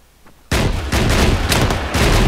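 A rifle in the video game ARMA 3, glitched to fire rockets in full auto, lets off loud blasting bursts in quick succession after a brief quiet moment, with no voices over it.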